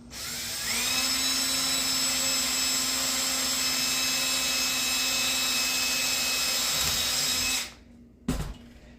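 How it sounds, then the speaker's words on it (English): A power drill with a number 40 (3/32) bit whines at a steady high pitch for several seconds while drilling aircraft rib parts, then stops, followed by a short clunk and quiet. "Drilling with a number 40 bit or 3/32"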